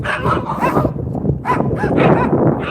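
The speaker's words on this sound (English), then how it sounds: "my peeps don't want to hear the dogs barking" Dogs, including a part-husky German Shepherd mix, barking loudly and close by, a busy run of overlapping barks and yips on a walk.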